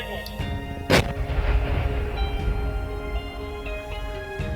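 A single sharp explosion booms near the start, its rumble and rattle lingering afterward over steady low mechanical noise.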